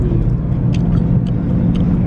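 Steady low rumble and road whir inside a moving car on a smooth ride, a constant droning hum filling the cabin with faint higher ticks, no voices.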